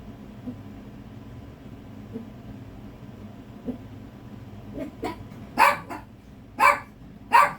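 Dogs bark in a few sharp bursts toward the end, after quieter yips and whimpers over low background noise.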